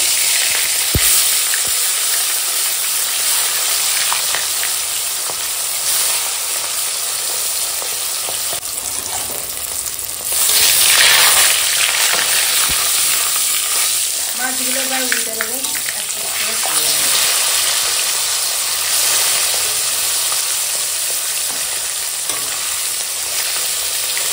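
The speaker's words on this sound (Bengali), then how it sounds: "তেল গরম হয়ে গেছে, এখন মাছ ভেজে নেবো" Katla fish sizzles steadily in hot oil, a loud continuous crackle that swells briefly midway before settling back into the same fry.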